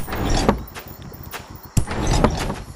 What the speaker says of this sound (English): Then we have sliding doors.